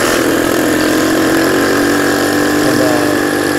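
A modified Honda C70 motorcycle engine revs hard and steadily as the bike climbs a steep, narrow, winding uphill road, a loud continuous mechanical drone with wind noise throughout.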